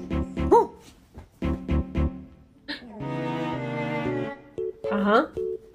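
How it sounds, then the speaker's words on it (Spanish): A dog barks and yips in short bursts within a meme clip, mixed with voices and whimpering tones, loud and close, with people talking over parts of it. "Bark at your dog."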